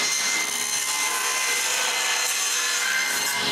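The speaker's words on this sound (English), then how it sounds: "I need to cut the strips that are still glued onto it." A saw cuts steadily through glued strips on old plywood, a continuous, close, rasping whine with no pauses and no talking.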